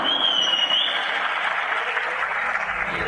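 An audience at a mimicry stage show bursts into dense, sustained applause that holds loud and steady throughout, with a brief high whistle near the start.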